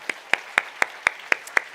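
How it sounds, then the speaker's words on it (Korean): A church congregation claps in a steady, even rhythm, seven sharp claps spaced about a quarter second apart, moderately loud and with no other sound in between. "우리 할렐루야 다시 한번 하나님께 영광의 박수 올려드리겠습니다."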